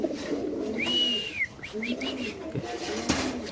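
Large pigeons held for sale at a market coo in close, repeated low phrases, with a sharp rising whistle and scattered clattering mixed in.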